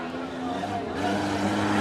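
A Nissan pickup truck's engine roars and climbs in pitch at a Hartford Fair tuff truck race, a loud sustained drone building just before a jump, with a voice speaking over it.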